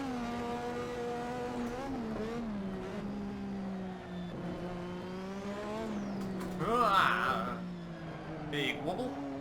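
A classic turbo-era Formula 1 car in a racing video game, on the Singapore GP street circuit, howls loudly as it accelerates. The engine note climbs steadily, dips briefly at gear changes, and picks up a short tyre squeal partway through.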